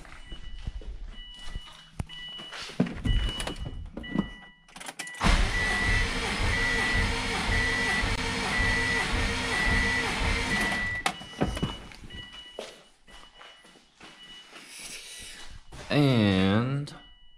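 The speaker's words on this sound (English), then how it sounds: "crank it over" A 650 whp Subaru STI engine cranks over during a compression test, the starter churning in a steady loud rhythm for several seconds, surrounded by quieter shop sounds and a person talking.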